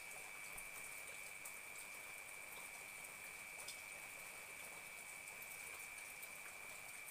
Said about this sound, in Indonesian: Sekarang posisinya sekarang lagi gerimis.